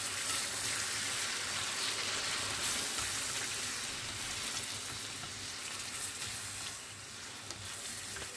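Sliced ampalaya (bitter gourd) sizzles steadily in a hot pan while being stirred, a continuous bright frying hiss with soft scraping movement underneath and no voices.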